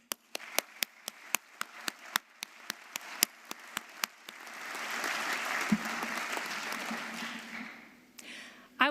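A graduation commencement ceremony audience breaks into applause: scattered individual claps at first, then a sustained wash of clapping from a large crowd that swells and gradually fades out.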